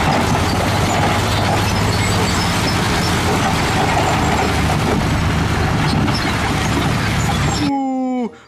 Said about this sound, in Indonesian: Mobil truknya besar sekali. Dia bisa bongkar muatan teman-teman.